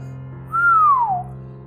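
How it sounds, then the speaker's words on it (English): A person whistles once, a single clear tone that rises briefly and then slides downward over about half a second, heard close and alone against a quiet hum. "He whistled."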